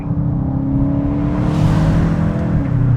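A 2025 VW GTI engine revs under acceleration with its 7-speed DSG, a loud, continuous close-up drone that climbs steadily through the rev range.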